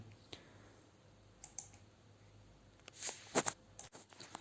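A computer mouse clicks the submit button on an online form: a few sharp, close clicks with a brief cluster near the end, over quiet room noise and no talking.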